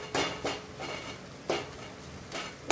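Egg fry being stirred in a pan after adding chili powder and salt, a spoon knocking and scraping against the metal in several sharp clinks spaced across a few seconds, close and fairly quiet with no talking.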